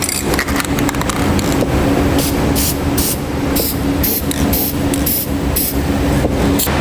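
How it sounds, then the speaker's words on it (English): Spray paint hisses onto an exposed cut metal edge during a gooseneck hitch installation under a 2008 Chevrolet Silverado, loud bursts repeating in short spurts over a steady background hum. "I'm going to take a little bit of spray paint and just spray that edge that's now an exposed metal edge"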